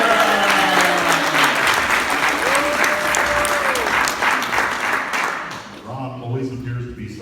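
Loud audience applause at a political endorsement event for a state representative candidate, a dense wash of clapping lasting several seconds, with cheering voices mixed in and fading toward the end.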